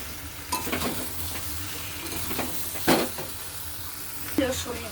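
Young jackfruit and prawns frying in a pan, a steady sizzle with intermittent scraping stirs of the spoon at irregular intervals, close and fairly loud.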